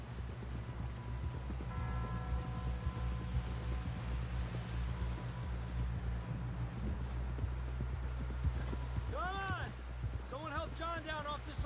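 Rhythmic clip-clop of horse hooves at a steady pace in the video game Red Dead Redemption 2, with a low rumbling backdrop and faint voices and whistling tones near the end.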